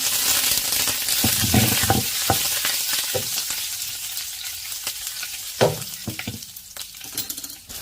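Mustard seeds, dried chillies and curry leaves sputter in hot oil, crackling and popping in quick bursts over a steady sizzle, close and loud, with no voices.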